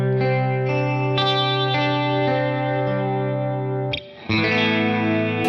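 Electric guitar through a Boss Katana amp with chorus effect, sustained shimmering chords changing every second or so, loud and close, with a brief pause before the final chord.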